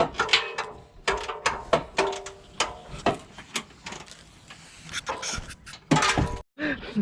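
Ratcheting wrench clicks in short bursts while loosening a bolt during removal of the stock exhaust on a 2019 Mustang GT for a Corsa Xtreme install, with people talking between and over the clicks.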